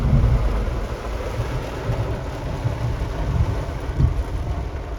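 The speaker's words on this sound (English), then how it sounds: "There's the thunder, guys." A deep, rumbling roll of thunder over Fulton Harbor in the rain fills the clip, steady and broad, with wind-like noise over it and no voices.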